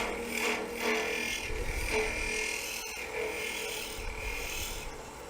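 A woodturning hollowing tool cuts into wood on a lathe, giving a steady, close scraping and rasping grind with a low rumble and vibration throughout, with no talk.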